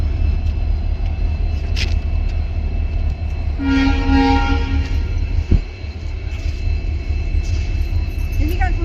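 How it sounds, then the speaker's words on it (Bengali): A train pulls in at Silchar railway station, a steady rumbling drone with a brief horn-like tonal burst midway, heard amid platform bustle with people talking nearby. "এইদিকে আসবে ট্রেন"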